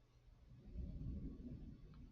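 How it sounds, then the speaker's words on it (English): A distant thunderstorm outside gives a faint, low rumble that swells briefly and fades, heard indoors with no talk over it. "You can hear a thunderstorm out there."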